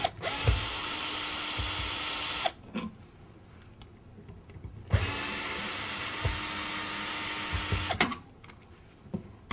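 A power drill fitted with a Phillips bit whines in two long, steady bursts, separated by pauses, as it backs out longer screws from a cable outlet; loud and close, with no talking.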